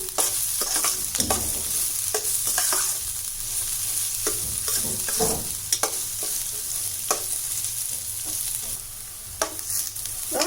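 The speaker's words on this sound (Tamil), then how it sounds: "கருவேப்பிலை போட்டுக்கலாம். இது நல்லா வதக்கிடலாம். வெங்காயம் நல்லா வதங்கணும்." Onions and curry leaves sauté in a pan for a carrot, beans and egg poriyal, giving a steady close sizzle broken by repeated scraping stirs of a spoon against the pan throughout.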